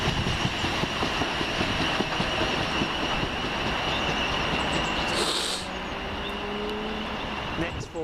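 An empty stock train rolls past close by with a loud, continuous rumble of wheels on rails and a thin squeal riding over it. The noise eases slightly toward the end.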